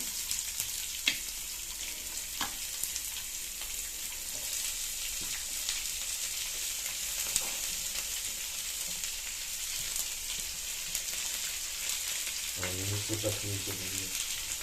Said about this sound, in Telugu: ఆనియన్స్ పచ్చిమిర్చి రెండు ఒకేసారి వేసుకుని వేయించుకోవాలి